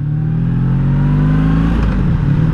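A 1984 Honda V65 Sabre VF1100S motorcycle rides along back roads, its engine droning loud and close with a steady low growl and wind rush, pitch shifting as the rider changes speed.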